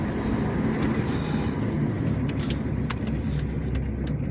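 A 1998 Dodge Neon on the road, heard from inside as a steady, loud engine hum and rumble of tyres, continuous for the whole stretch.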